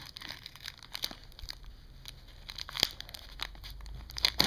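Scissors cutting a Beyblade free from its plastic packaging, with crinkling and tearing plastic in irregular bursts, close and moderately loud.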